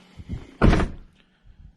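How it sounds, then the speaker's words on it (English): A 2005 Chevy Silverado truck door shuts with one solid, close thunk, followed by faint rattling handling noise and quiet background. "The door used to rattle when I closed it."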